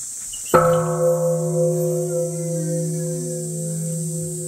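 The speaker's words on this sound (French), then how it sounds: "Ça c'est un gong dynamique." A temple gong at a Shikoku temple is struck once and rings out loud and close, its deep sustained tone and shimmering overtones fading slowly over several seconds with a faint hum beneath.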